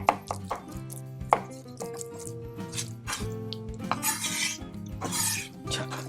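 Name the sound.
knife mincing salmon on a cutting board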